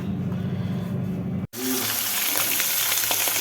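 Mackerel frying in a pan in a home kitchen: loud, steady sizzling and spitting oil that cuts off for a moment, then returns brighter and hissing, with no talk.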